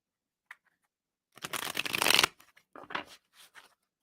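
Cards are riffled in one brisk shuffle, followed by a few softer bridging and tapping sounds, close and otherwise quiet.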